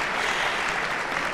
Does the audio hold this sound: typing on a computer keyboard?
no